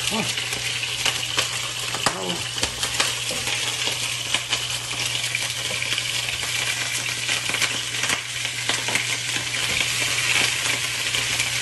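Chicken pieces sizzle and fry steadily in a pot of hot oil for a vegetable chicken maqluba, a dense, continuous crackle with occasional sharper pops and light stirring, close and fairly loud throughout.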